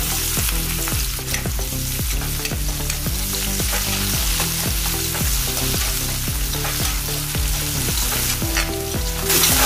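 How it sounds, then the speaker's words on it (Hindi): Sliced onions fry in a spoonful of oil for wedding-style dum aloo, a steady broadband sizzle running throughout with repeated stirring scrapes and a rhythmic tonal pattern underneath, loud and close, no talking. "मैंने 1 चमचा तेल डाली। अब इसमें जो प्याज हम बड़े स्लाइस में काटे थे वो डाल देंगे। इसको फ्राई करना है कलर आने तक।"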